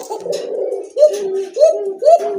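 Large Rasgolla pigeons kept for sale coo close by in a rhythmic series of deep, rolling calls, each phrase repeating about every half second.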